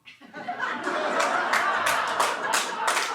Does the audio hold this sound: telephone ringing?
no